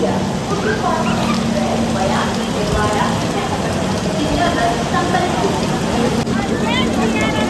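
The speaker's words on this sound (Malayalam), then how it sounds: "ഹെവി മഴ" Heavy rain pours down in a dense, constant hiss, with voices talking intermittently over the steady downpour.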